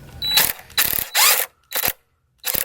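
A ratchet clicks in short bursts while backing out bolts on a 2.3L DOHC four-cylinder in a Ford Fusion, the close metallic ticking coming in several quick strokes separated by brief pauses.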